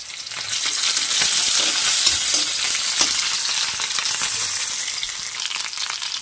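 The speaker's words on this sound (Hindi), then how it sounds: "तो चलिए पहले प्याज को थोड़ा सा भून लेते हैं।" A small onion fries in hot oil in a kadhai, giving a steady, dense sizzle with occasional stirring scrapes throughout, no voices.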